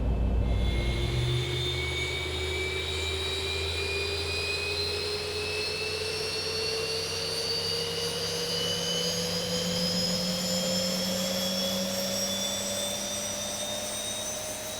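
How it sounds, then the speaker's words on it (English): Boeing 737 jet engine spooling up during start in the X-Plane 11 flight simulator, a steady loud roar with whines rising in pitch throughout, heard alone with no talk. "engine number 2 now is coming to life"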